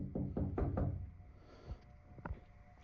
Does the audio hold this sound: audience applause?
no